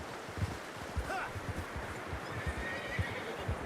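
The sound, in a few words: horse neighing, from a video game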